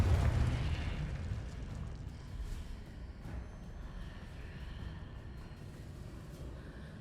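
A Confringo blast in Hogwarts Legacy bursts loudly at the start, a deep rumbling explosion that decays into a sustained low roar and crackling debris over several seconds.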